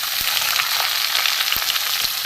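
Thinly sliced snake gourd tossed into hot oil with cumin, giving a loud, close, continuous frying sizzle broken by a few sharp knocks of a spoon.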